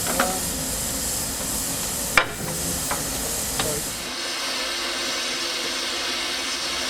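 Loud, steady steam hissing from a steam locomotive on the Lynton & Barnstaple Railway as it couples to a train, punctuated by a few sharp metallic clanks, then the hiss thins and quiets toward the end.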